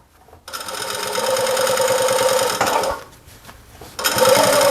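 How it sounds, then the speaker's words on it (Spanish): A sewing machine topstitches a seam on a fabric welding cap, running steadily in one long close burst, pausing briefly, then starting again. "le voy a asentar la costura con una pasada acá arriba, como a 2 milímetros de la costura que ya hicimos"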